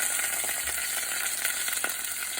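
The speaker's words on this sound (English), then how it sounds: "I got some bacon grease in there. I'm gonna go ahead and sear this squirrel" Squirrel searing in bacon grease in a pan makes a steady, close hiss of frying fat, with a few faint crackles and pops and no talking.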